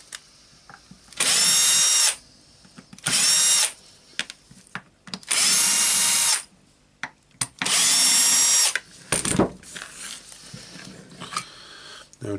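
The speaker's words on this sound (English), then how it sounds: "now we need to unscrew the screws here. I will do that with a drill to" Power drill backing screws out of a Berner BROS 150 orbital sander, several loud whirring bursts of one to two seconds each with short clicks and handling noises between them.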